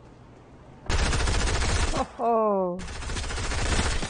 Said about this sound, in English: And they are shooting at me already.